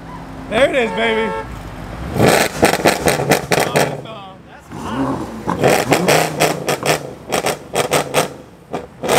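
A supercar engine revs loudly on a street, with repeated sharp throttle blips in quick bursts and a rising tonal sweep near the start. A horn-like tone sounds as well, and voices talk over parts of the sound.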